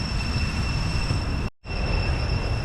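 Cicadas drone loudly from the trees in a continuous high-pitched buzzing whine, cut off for a moment midway before resuming.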